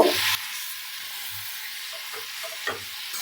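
Potatoes and tomatoes frying together in a spiced gravy for rohu fish curry, with a soft steady sizzle and a few quiet spoon scrapes and stirs in the pan, close and alone.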